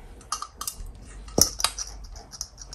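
A 26 cm metal cooking pot with a thin wall is handled, giving a few faint, scattered metallic taps and clinks with one brighter clang in the middle, close by and quiet.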